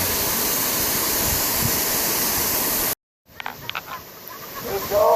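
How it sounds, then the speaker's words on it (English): Loud, steady roar of a jungle waterfall in Costa Rica fills the first three seconds, then cuts off abruptly; quieter splashing and faint voices follow. "Swimming underneath the waterfall in the jungle canopy."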